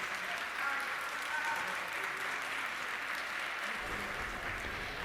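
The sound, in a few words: applause in the National Assembly plenary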